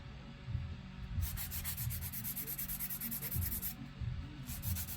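A 100-grit nail file rasps across fingernails in a steady back-and-forth rhythm, with close, dry scratching strokes that pause briefly before resuming; no one speaks.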